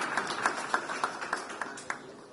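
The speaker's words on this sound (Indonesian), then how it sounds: "Boleh kita beri tepuk tangan buat Kak Afu" A small audience claps for Kak Afu at a Q&A event with Ahok, light and thin, with a handful of separate claps ringing out over a brief spell.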